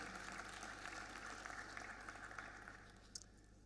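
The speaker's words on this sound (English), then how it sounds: "Please give him a big round of applause" Audience applause at a ministerial session of an international conference, a faint, distant wash of many hands clapping that holds steady then tapers slightly, with one brief sharper sound near the end.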